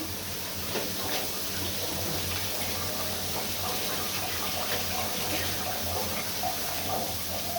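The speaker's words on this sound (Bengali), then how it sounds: "আর একটু পানি দিয়ে দেই" Water pours steadily into a cooking pot with fish, green chilies and spices on the stove, a continuous, even splashing stream that lasts throughout at moderate closeness, with no talking over it.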